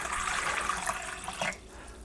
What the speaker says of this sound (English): turn the hot faucet on as high as it'll go and let it run for about 2 minutes